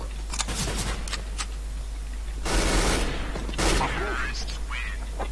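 Gunfire from the CS:GO video game comes as quick bursts of shots, with two denser loud volleys in the middle, over a low steady hum. Voices talk faintly underneath.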